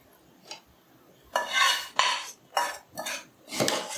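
Mango pickle being mixed in a vessel, with a spoon scraping and clattering against the metal in several distinct bursts, close and fairly loud in an otherwise quiet room.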